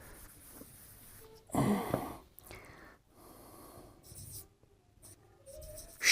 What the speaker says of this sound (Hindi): मैं एक सेंटेंस लिखता हूं